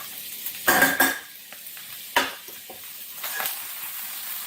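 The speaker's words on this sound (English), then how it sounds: "Now I'm going to add about 3 tablespoons of butter to the browning" About three tablespoons of butter sizzle in a pan with browned chopped steak drippings, a loud close hiss with bursts of spatula stirring and scraping.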